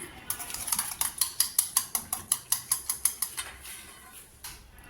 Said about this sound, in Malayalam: ഇനി എല്ലാം കൂടി നന്നായി ഒന്ന് നമുക്ക് മിക്സ് ചെയ്യാം